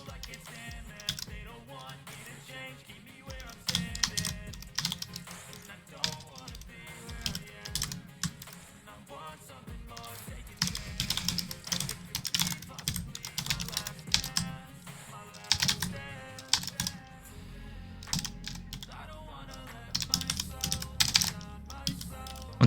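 Keys clatter on a computer keyboard in quick, uneven bursts with short pauses, soft and close in a quiet room.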